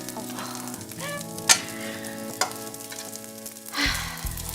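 Special nasi goreng fries in a pan with a steady sizzle, punctuated by a few sharp scrapes and clanks of a utensil, while background music plays.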